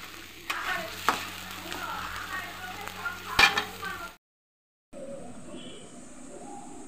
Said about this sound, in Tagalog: Keep on stirring guys, the onion until little bit brown siya